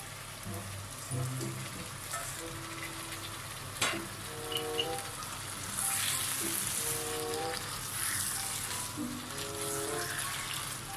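Bitter melon frying in a pan, a quiet steady sizzle with scattered stirring clicks and a brief hiss as the pieces hit the oil.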